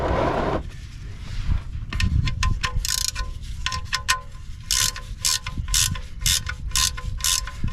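Someone tightens a part during car maintenance with a ratchet, giving a run of quick, close clicking pawl bursts in an uneven rhythm over a faint background hiss.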